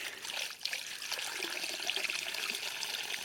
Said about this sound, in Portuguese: Tirar aquela água esbranquiçada de cima.